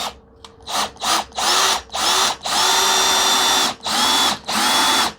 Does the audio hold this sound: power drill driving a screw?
yes